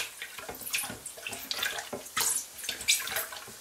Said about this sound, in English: once this all stops bubbling and sizzling